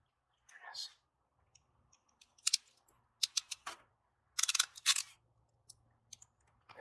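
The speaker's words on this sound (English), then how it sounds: "connect it, crimp it to the power cable" Crimping a wire onto the power cable of a 40-inch light bar, fitted with a bumper on a 2021+ Ford Bronco: a few crisp clicks and sharp snips in short bursts, close and fairly loud against a quiet background.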